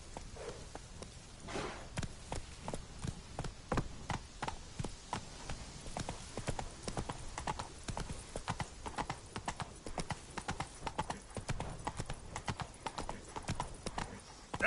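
Roach the horse in The Witcher 3 moves along with quick, regular clip-clopping hoofbeats that stay close and fairly faint throughout, with an occasional soft snort.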